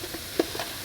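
Pesto hits a hot pan beside turkey meatballs in a one-pot pumpkin sauce dish, giving a brief sizzle with a quick scrape of stirring.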